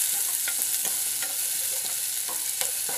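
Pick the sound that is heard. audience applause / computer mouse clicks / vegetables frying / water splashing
vegetables frying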